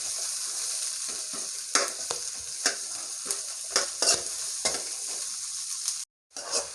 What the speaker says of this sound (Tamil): பூண்டு, இவற்றை நன்கு வதக்கிக் கொள்ளவும்